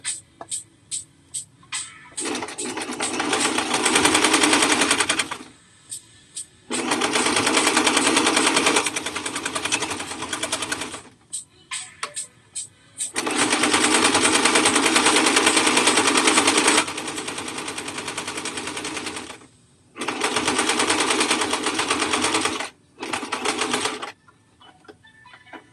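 A sewing machine topstitches a cropped cardigan in several loud, sustained runs of a few seconds each, separated by short pauses and brief clicks, with no talking.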